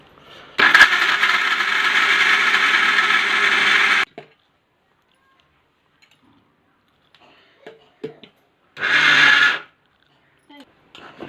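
A kitchen mixer grinds jaggery, running loudly for about three seconds, stopping, then giving one short second burst after a pause with a few small clatters in between.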